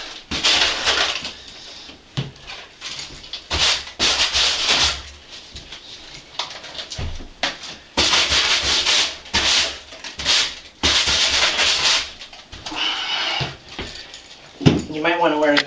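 Sandpaper rubs by hand over a patched small hole in ceiling drywall in repeated back-and-forth strokes, close and fairly loud, with short pauses between passes.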